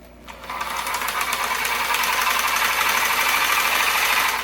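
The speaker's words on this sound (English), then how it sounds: "Gonna shake our paint up here and make sure that it's all mixed up in the can" A can of Duplicolor caliper and drum spray paint is shaken hard and continuously, a loud close rattle that starts after a brief quiet moment and keeps going without a break.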